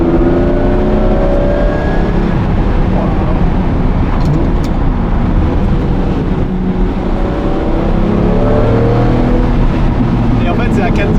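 Lamborghini Murciélago LP-580 with a V12 engine and manual gearbox, revving loud and close as it accelerates hard, a continuous roaring drone with rising and falling pitch across the whole stretch, with a person talking over it.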